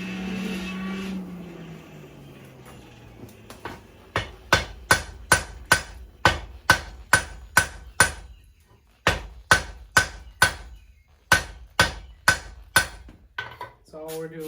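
A hand hammer forges a musketoon barrel octagonal at welding heat, striking loud, evenly spaced metallic blows in a long run, with a brief pause midway. A low rushing tone is heard before the blows begin.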